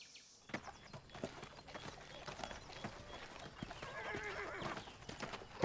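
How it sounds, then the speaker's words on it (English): A horse whinnies while hooves clip-clop in an irregular stream, fairly close but soft, with a faint voice-like murmur underneath. "That's his horse."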